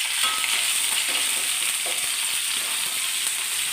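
Dried red chillies and curry leaves sizzle in hot oil for a Kerala kumbalanga parippu curry, a dense, even crackling hiss heard up close, with faint stirring clicks and no voices.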